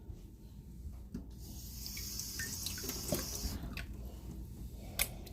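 Food being rinsed under a running kitchen tap, a soft steady stream of water with splashes and wet squishing as it is handled, close and fairly quiet.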